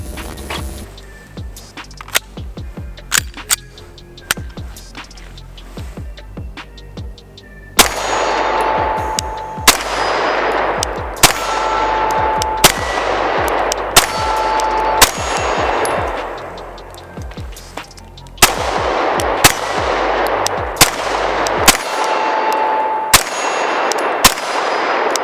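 A customized Sig P320 pistol fires a full magazine as sharp, loud cracks in an uneven, steady string, with bright metallic pings from struck steel between shots.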